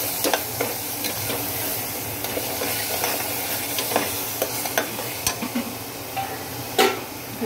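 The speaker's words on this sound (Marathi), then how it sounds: "मीठ, हळद हे टाकून व्यवस्थित अजून परतून घेऊया" Spices with salt and turmeric sauté in a pan, giving a continuous sizzle with light, irregular ticks and scrapes from stirring nearby.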